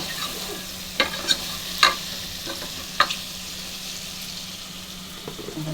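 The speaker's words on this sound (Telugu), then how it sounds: "బాగా కలబెట్టాలి" Onions fry in a pan under a steady sizzle while a spoon stirs them, giving several sharp metallic clinks and scrapes close by.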